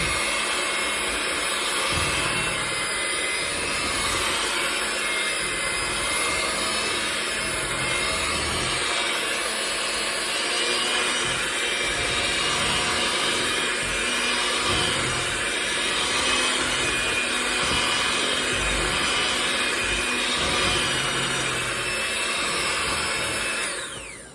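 Electric hand mixer whirring through Coca-Cola chocolate cake batter, a continuous loud motor whine with faint rhythmic scraping in the bowl, running steadily alone.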